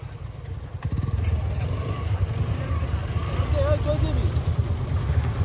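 A motorcycle engine runs with a low, steady rumble close by, with people talking over it throughout.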